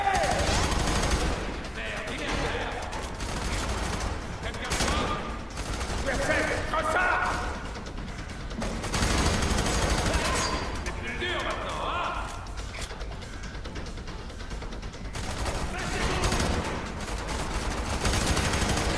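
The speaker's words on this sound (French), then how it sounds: "Un tir de couverture." Heavy, sustained covering fire in the shooter video game F.E.A.R. 3, with dense overlapping automatic bursts running throughout, while someone speaks French over the battle noise.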